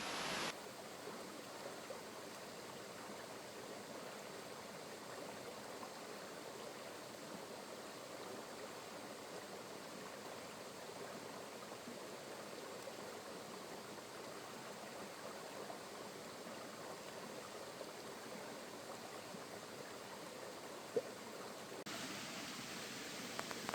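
Creek water flows steadily in a river section during a wilderness survival outing, a faint, even rushing wash that continues unbroken and alone throughout.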